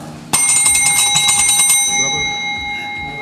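A bright metallic bell rings out suddenly and sustains with shimmering, rapidly repeating strikes, then lingers and fades over a low murmur of room noise.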